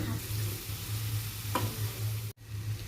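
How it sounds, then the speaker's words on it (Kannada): Cooked rice being mixed into sautéed spinach (palak) with turmeric in a pan, a steady scraping and stirring over a low sizzle, with one brief sharper scrape partway through and a short break near the end; no talking. "ಇದನ್ನು ಪಾಲಕ್ದೊಳಗೆ ಹಾಕ್ಕೊಂಡು ಕಲಿಸ್ಕೊಂಬಿಡೋಣ ರೀ"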